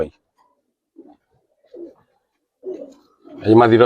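Giribaz pigeons coo in short, soft bursts spaced about a second apart, close by in a quiet room, before a voice begins at the end.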